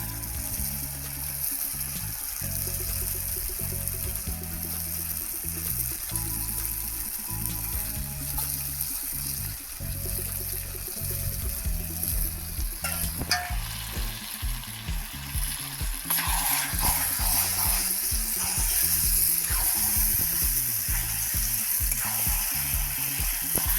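Chicken pieces frying in a pot of cooked-down spice paste for a country chicken curry, a steady sizzle running throughout that grows louder and brighter partway through as the meat settles in.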